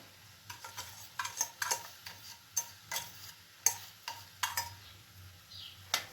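Raw mango pieces and sugar being stirred in a pan for traditional murabba, with a spoon scraping in irregular clinks and strokes over a faint low hum, no voices.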